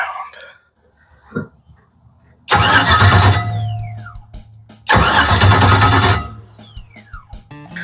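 An LS engine in a Firebird cranks over twice in loud, rhythmic whirring bursts of a few seconds each, with quiet clicks and shuffling between them.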